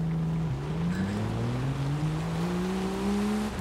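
Toyota FJ40 Land Cruiser with a 4.2-litre straight-six engine in Forza Horizon 5, a steady drone rising slowly in pitch as it accelerates, with one brief dip, and no voices.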